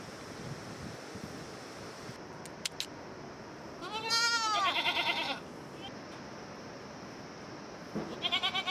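Goats bleat in a Nepalese village along the Annapurna trek, a clear wavering call of a couple of seconds rising over steady outdoor background noise, with a few short sharp knocks and another brief bleat near the end.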